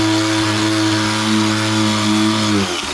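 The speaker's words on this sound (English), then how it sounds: "get yourself one of these, a wire brush on a grinder" A grinder fitted with a wire brush stripping tar runs at a loud, steady high whine that drops off sharply near the end as it spins down.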